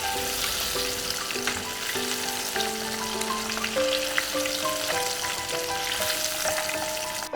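A fish fillet frying in hot oil gives a steady, dense sizzle and crackle that continues without a break. It sits close and fairly loud, and soft tonal notes from background music run underneath.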